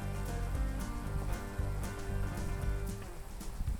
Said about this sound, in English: It's now pouring rain